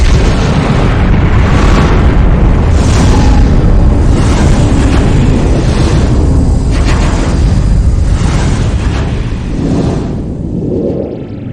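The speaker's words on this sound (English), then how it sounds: "When these massive stars die, they blow apart in giant supernova explosions." A supernova explosion sound effect delivers a loud sustained roaring boom with rumbling bursts and whooshes that slowly subside toward the end.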